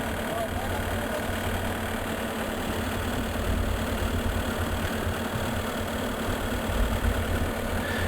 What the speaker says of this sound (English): we're going to now try and get the slack out of the tire tracks by running them back and forth